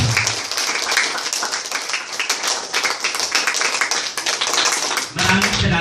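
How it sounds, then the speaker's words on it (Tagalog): Steady, dense applause from a debate audience, loud and sustained throughout, with a brief dip near the end before clapping swells again. "bigyan natin ng malakas na palakpak yung dalawang grupo."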